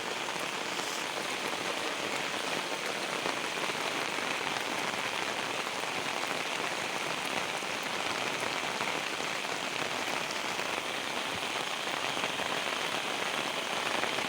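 Heavy rain pours down in a rural village, a dense, even roar of drops striking surfaces close by, unbroken and constant for the whole stretch with no voices.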